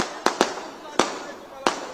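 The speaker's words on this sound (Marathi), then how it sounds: "फटाके बंद करा, फटाके" Firecrackers bursting outdoors at a crowded political rally, five sharp loud cracks at irregular intervals over a busy crowd murmur.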